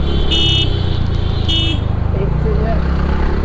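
Vehicles rumble steadily along a busy market road, with two short car-horn toots early on and a voice talking over the traffic.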